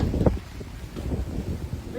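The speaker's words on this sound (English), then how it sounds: "Out here getting rained on, and it's windy." Wind buffets the microphone outdoors during a sudden freak storm with rain, producing a low, gusty rumble with uneven bursts, loud and close.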